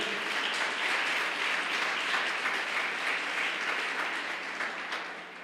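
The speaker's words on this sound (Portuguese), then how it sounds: "Vocês podem aplaudir o nome do Senhor?" A church congregation applauding during a sermon, with dense sustained clapping from many people that holds steady and then begins to fade toward the end.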